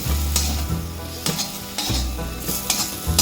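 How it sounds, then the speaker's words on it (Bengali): Onion petals and spices get stirred in a frying pan for a bhola fish head dish, with repeated scraping strokes and metallic clinks over a constant hot sizzle, close by and with no voices. "এবারে যে কেটে রাখা পেঁয়াজের পাপড়িগুলো দিয়ে দেবো। আবার একটু নাড়াচাড়া করে নেব।"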